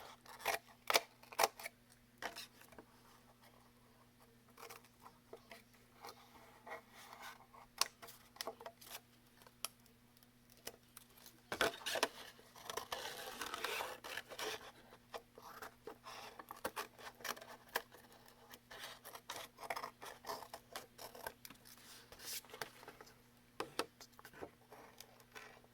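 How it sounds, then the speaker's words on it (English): Old scissors roughly trim off material in a long run of close, crisp snips and clicks, irregular in pace with a busier scraping stretch midway and a faint steady hum behind. "I got an old pair of scissors like I said, I'm just going to roughly trim this off."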